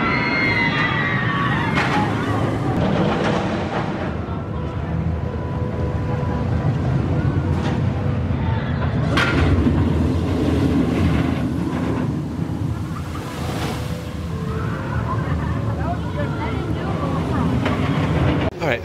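Alpengeist inverted roller coaster at Busch Gardens Williamsburg, a continuous loud rumbling roar of the train on the track with wind noise and faint clattering throughout, riders' voices mixed in.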